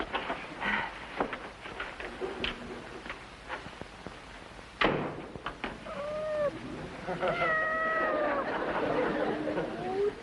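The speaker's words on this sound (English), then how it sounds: "There isn't a cat around here by any chance." A cat meows several times in an indoor sitcom scene, the cries rising and falling in the second half over a steady background hiss, with scattered clatter and movement sounds before.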